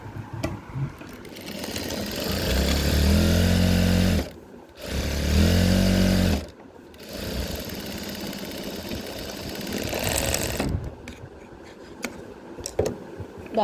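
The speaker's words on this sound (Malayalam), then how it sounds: "ക്രോച്ചിൻ്റെ ഈ ഭാഗവും കൂടെ നമുക്ക് ഒന്ന് സ്റ്റിച്ച് ചെയ്ത് കൊടുക്കാം" Sewing machine stitching the crotch seam of a pair of pants: two loud bursts of steady mechanical whirring and rapid needle chatter separated by brief stops, followed by softer fabric handling and clicks.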